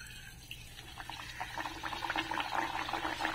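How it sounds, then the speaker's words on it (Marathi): Pumpkin gharge vadas, a Malvani-style fried snack, bubble and sizzle in hot oil over slow-to-medium heat, a faint frothy crackle that grows busier as the batter cooks. "आता आपण हे एक एक वडे तळून घेऊया।"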